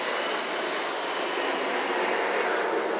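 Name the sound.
airplane flying overhead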